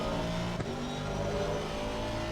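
Aston Martin race car engine at Misano in a racing video game, a continuous loud, close engine drone with layered harmonic tones at an even pitch, briefly dipping once, with no talking.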